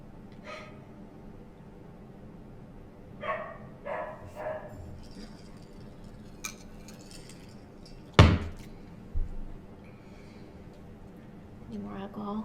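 A dog barks indoors a few times, a sharp loud bark near the middle followed by a softer one, with quieter yips and household rustles scattered around it.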